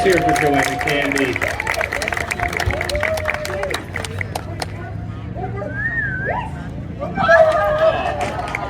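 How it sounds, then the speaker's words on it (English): An audience at a trick dog performance event applauds and cheers, the clapping steady under an announcer's voice and crowd chatter, and it swells again near the end. "Oh, let's hear it for Joanne and Candy."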